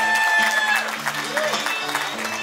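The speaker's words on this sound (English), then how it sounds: "Big round of applause," Guests at a quinceañera party clap in steady applause under background dance music, moderately loud and continuous through the moment.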